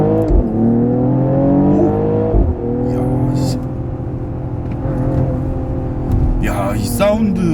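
A Mercedes-AMG GLE 53 SUV with a six-cylinder engine accelerates hard in Sport Plus mode. Loud rising engine tones climb through gear changes, heard from inside the cabin, with a voice speaking over it near the end.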